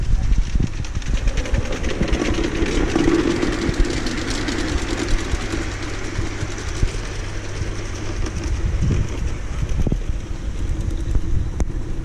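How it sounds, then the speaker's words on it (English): A model train at Babbacombe Model Village rumbles past at close range with a steady mechanical drone and rattling, loud throughout without pause. "here comes the train"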